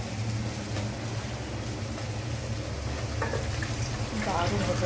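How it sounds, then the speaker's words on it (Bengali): Fish fat sizzles steadily in a hot pan at home, a dense, even crackle that runs the whole time with a low hum underneath and no voices. "মাছের তেল ভাজা বসিয়ে দিয়েছি।"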